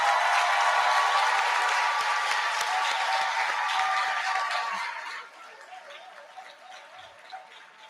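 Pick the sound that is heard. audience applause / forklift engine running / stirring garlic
audience applause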